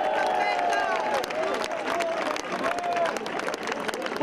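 A large crowd applauds continuously as a doctor is introduced at a team presentation, dense sustained clapping and cheering with an announcer's voice over it.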